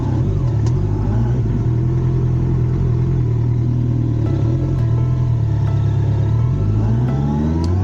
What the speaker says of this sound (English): if ever in doubt, pull the throttle.